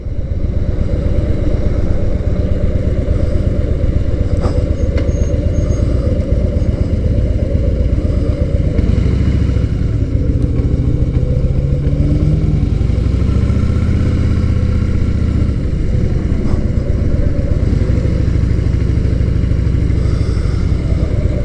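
A Harley-Davidson Softail motorcycle engine running steadily nearby, a loud continuous low rumble with mechanical clatter that holds for about twenty seconds without talk.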